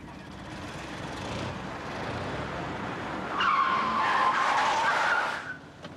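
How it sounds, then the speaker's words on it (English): A car pulls away under heavy acceleration with tires skidding and squealing, a steady engine roar building to a louder burst of screeching before fading near the end, with no talking. "I want you to put that car into first gear and move it"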